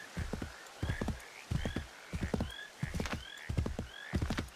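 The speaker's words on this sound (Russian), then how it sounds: "Лошадь." Horse hooves clip-clopping in Assassin's Creed 3, rhythmic bursts of four to five hoof strikes repeating steadily and fairly close, with faint whinny-like tones above and no talk.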